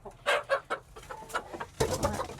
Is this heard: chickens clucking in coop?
yes